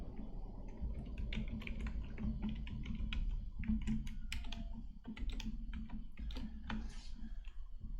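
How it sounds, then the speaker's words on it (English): Steady close-up typing on a computer keyboard, with a quick, uneven patter of key clicks running throughout and no talking. "Typing."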